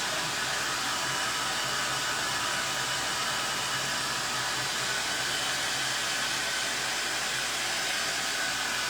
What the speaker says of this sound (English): Sorry about the noise. Blow dryers,